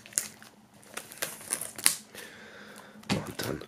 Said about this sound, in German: Als erstes entfernen wir wie immer die Folie.